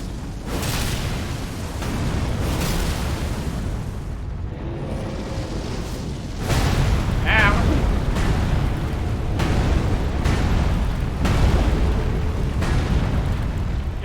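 Fiery explosions in the Elden Ring video game, a run of booming blasts and bursts over a rumbling low roar, loud and repeated with no talking.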